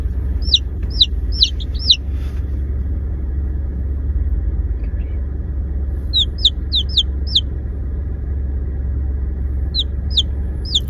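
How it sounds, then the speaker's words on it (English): Backyard chickens give short bursts of high calls in three clusters over a constant low rumble, fairly clear against the steady background hum. "these are our first chickens in like 4 or 5, maybe even 6 years"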